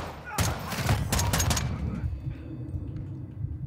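Call of Duty Modern Warfare 2 gunfire opens with a dense flurry of loud, rapid shots across the first second and a half, then gives way to a lower, quieter rumble of battle.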